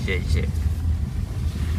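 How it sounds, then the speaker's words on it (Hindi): A tractor runs in a farm field, its steady low engine drone continuing under outdoor wind noise while a person speaks briefly nearby. "वो भी खेत में ट्रैक्टर चल रहा है"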